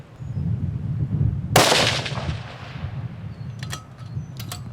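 A single loud crack from a .308 rifle fired at a target 300 yards away, with a long decaying rumble trailing off over steady low outdoor noise and a few faint clicks afterward.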